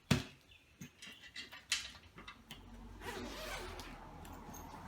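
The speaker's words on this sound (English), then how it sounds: "Zips feel good." A plastic zipper on a budget backpack runs in several short, scratchy pulls, then a longer continuous zip, close-up and fairly quiet.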